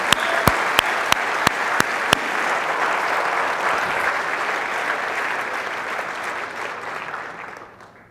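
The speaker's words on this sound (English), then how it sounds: "Round of applause for Chad." An audience at a magic show applauds a volunteer named Chad, with a few loud individual claps up front before a full, sustained wave of clapping that fades out at the end.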